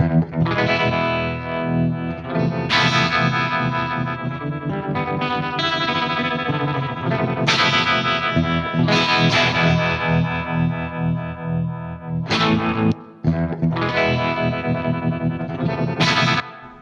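Distorted electric guitar chords with a wavering, pulsing vibe modulation, played loud in phrases with brief pauses between strums.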